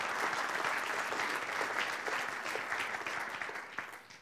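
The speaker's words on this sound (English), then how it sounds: "ladies and gentlemen, could you give John Tanner a round of applause for the Young Nationals?" An audience at a Young Nationals federal conference gives a sustained round of applause, dense steady clapping that fills the room for several seconds before starting to thin out at the end.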